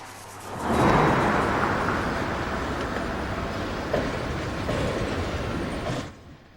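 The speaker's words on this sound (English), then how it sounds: "Ooh, some train action." A train rumbles past the Conrail yard beside an underpass, a loud, steady broadband roar that swells in quickly, holds with faint clacking, then drops away abruptly near the end.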